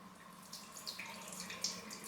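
Tap water runs over a makeup brush being rinsed under a faucet, a soft steady hiss of flowing water with faint splashes, quiet and close with no voices.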